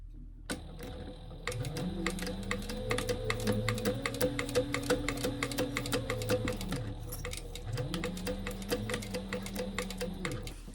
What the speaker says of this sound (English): Now I can just top stitch